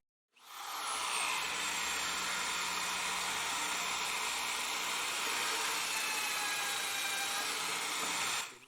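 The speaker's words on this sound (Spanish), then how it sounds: "haré una perforación en este mismo listón en la parte que sé que va a sobrar" A power drill bores a test hole in a wooden strip, a loud, steady high-pitched whine that spins up quickly and holds constant for about eight seconds before stopping abruptly.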